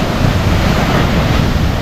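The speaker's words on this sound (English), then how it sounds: "Looks like here the waves are quite strong" Strong Arabian Sea waves break on a Kerala beach, a loud continuous roar of surf with wind noise on the microphone, close and unbroken.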